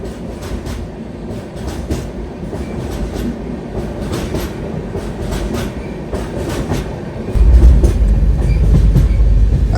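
Madurai to Chandigarh Super Fast Express train running, a loud continuous rumble with rhythmic clickety-clack of wheels on rail joints, swelling heavier in the final seconds.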